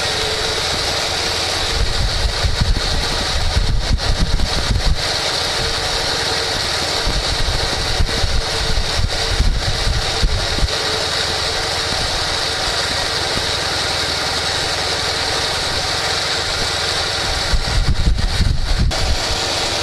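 A small motorcycle engine, an M-72 being run in, runs loudly and steadily up close during carburetor adjustment, its speed briefly rising and falling a couple of times.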